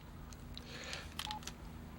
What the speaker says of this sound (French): je vais appeler Nathan, je vais me faire passer pour quelqu'un d'autre